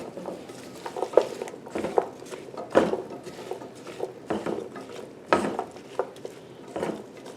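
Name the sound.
stirring vegetable soup in a pot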